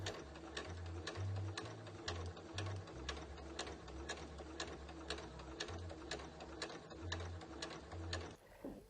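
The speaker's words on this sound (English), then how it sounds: "take those to the sewing machine and sew those seams with 1/4 of an inch seam allowance" A sewing machine stitches in quick, rapid ticking bursts, pausing briefly and restarting, close and fairly quiet, with no voices.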